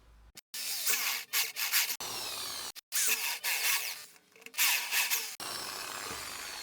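Bursts of drilling into PVC pipe, boring two headlight holes for a homemade toy RC Willys jeep, loud and close, several runs of a few seconds broken by short pauses.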